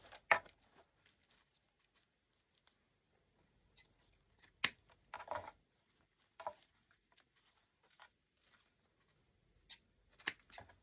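Scissors snip through ribbon tails on a candy corn centerpiece, with quiet, close, irregular cuts and small rustles scattered across the stretch.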